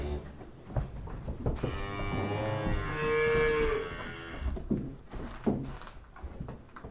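A mother cow near her nursing calf on a rural village farm gives one long, loud, close moo that swells and fades, with soft thumps and rustling before and after.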